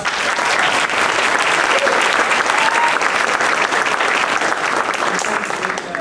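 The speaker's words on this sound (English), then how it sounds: "Please give a round of applause." An audience at a Beijing versus Rollins debate event gives a sustained round of applause, loud and dense with many hands clapping steadily for the full stretch and a faint crowd murmur beneath.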